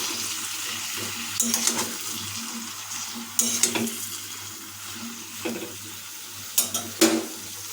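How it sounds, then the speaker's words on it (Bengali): Bottle gourd stems being stirred in a pan with salt, tomato and green chilli for a vegetarian dish, giving a soft continuous sizzle with several scraping stir strokes close by and no talking. "নাড়িয়ে নেব"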